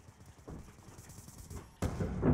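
Heavy gunfire from a big gun in Call of Duty: Black Ops 2, a run of rapid low booming shots at steady moderate volume, followed by a louder, denser blast near the end.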